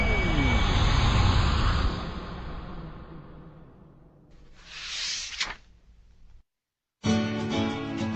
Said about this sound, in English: The circularium began to spin.